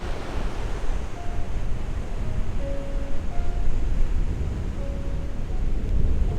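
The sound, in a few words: strong wind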